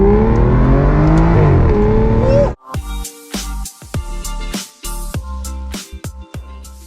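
An Aston Martin Virage engine revs loudly up close, its tone rising and sliding for a couple of seconds, then cuts to a choppy run of short pops and bursts.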